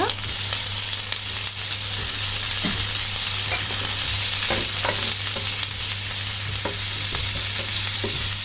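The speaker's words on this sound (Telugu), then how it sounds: "ఇదే ఆయిల్లో మనం కట్ చేసి పెట్టుకున్న పచ్చిమిర్చి, ఉల్లిగడ్డ," Green chilies and chopped onion frying in hot oil, a steady loud sizzle with occasional stirring clicks and a low hum running throughout.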